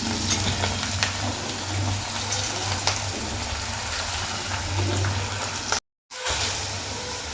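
Steady sizzling of mixed vegetables for paneer frying in a pan, a continuous crackling hiss with occasional stirring clinks, briefly cutting out near the end.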